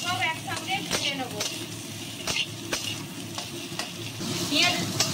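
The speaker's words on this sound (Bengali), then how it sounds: "পেঁয়াজের সঙ্গে আলুগুলোও দিয়ে নিচ্ছি। সব একসঙ্গে ভেজে নেব।" Onions and potatoes sizzle in a hot pan for an egg and potato curry. A steady frying hiss runs throughout, punctuated by sharp clicks and scrapes of a spoon stirring against the pan.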